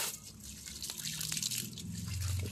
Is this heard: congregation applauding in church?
no